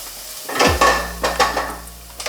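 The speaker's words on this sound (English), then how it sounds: "I'm gonna be turning around and stirring it." A utensil scrapes and clanks against a pan as onions and garlic cook for fried rice, with a steady low sizzle underneath and several close, rhythmic stirring strokes.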